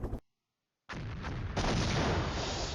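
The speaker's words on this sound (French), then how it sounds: "Là, l'artillerie adverse matraque nos forces." A short burst sounds, a pause of near silence follows, then a dense, loud rumbling artillery barrage from the Cold War strategy game Flashpoint Campaigns builds and keeps going to the end.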